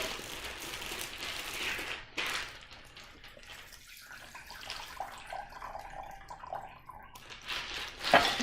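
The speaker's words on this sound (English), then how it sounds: "I am going to dump some of my water out, I think." Water is poured and dumped out of a plastic ice cream bag filled with ice, giving a faint, uneven splashing and trickling that comes in short bursts with quiet pauses between.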